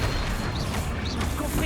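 A Flipendo spell fires at a troll in Hogwarts Legacy, a short, loud, dense blast of magic with a quick whoosh and crunching impact amid the constant rumble of battle.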